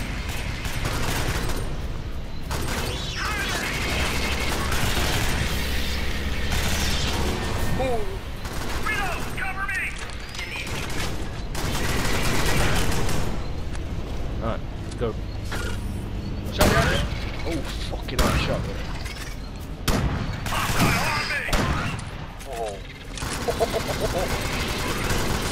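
Rapid bursts of gunfire from the video game Alien Swarm, dense and continuous, alongside game effects and mechanical clatter while players talk over it.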